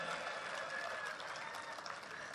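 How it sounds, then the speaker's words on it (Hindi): Audience at a Hindi poetry gathering in Ahmedabad applauds briefly, a steady, moderately distant patter of many hands clapping together without pause. "कमाल है, तालियां तो बजनी चाहिए भाई"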